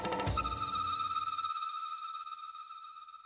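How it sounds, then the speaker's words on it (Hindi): A telephone rings in a home scene of a Hindi TV drama, heard as a brief jangle followed by a sustained, clear electronic ringing tone that slowly fades, with no speech over it. "अरे अच्छू, तेरा फोन है, सतीश का है।"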